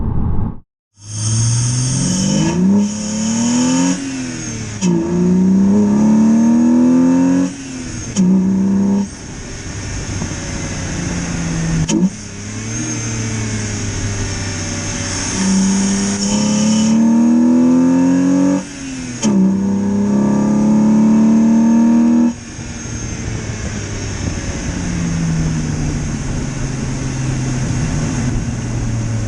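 A BMW E46 engine with modified intake and exhaust revs hard through repeated gear changes, roaring up in pitch, dropping at each shift, then settling into a cruise.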